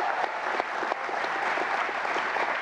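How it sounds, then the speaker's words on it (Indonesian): Audience applause for sport climbing athletes at a televised talk show event in Palembang, a dense, steady clatter of many hands clapping close by with no talk over it. "Kita kasih tepuk tangan yang paling meriah untuk para atlet panjat tebing."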